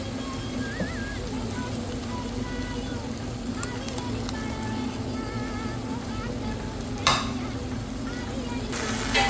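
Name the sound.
prawns being stirred and sizzling in a pan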